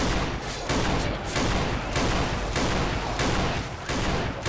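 Gunfire rattles in Left 4 Dead 2, rapid loud volleys of close shots in bursts with short gaps, all over a constant din of battle.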